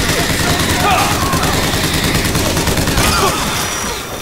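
Rapid gunfire from Bioshock Infinite fills the scene in loud, dense volleys with explosive booms, continuing almost without pause throughout.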